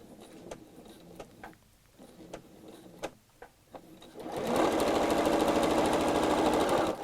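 A sewing machine stitches fabric for a dust cover. It starts with a few separate needle taps, then settles into a loud, steady, whirring run that lasts to the end, close up and with no talking.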